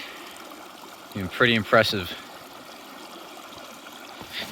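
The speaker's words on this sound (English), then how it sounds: "that is just a lot of water flowing." A strong stream after a winter storm in southern Maine: a steady broadband rush of flowing water runs throughout, with a person briefly talking over it midway.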